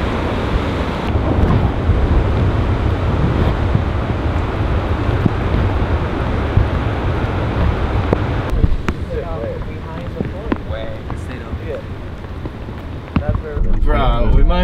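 Ocean waves break and wash steadily at a surf beach in Mexico under heavy wind buffeting the microphone, with a voice speaking briefly near the end.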